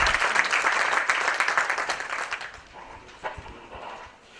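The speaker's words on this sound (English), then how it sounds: "Can we have a huge round of applause for him" A conference audience gives a round of applause for a keynote speaker, dense clapping at first that thins and fades out over a few seconds, ending in a few scattered claps.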